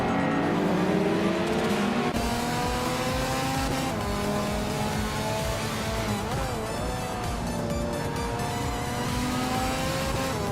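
A 1999 Citroën Xsara race car in a racing video game drones with a loud, steady engine note that climbs and dips through gear changes, joined by other cars nearby.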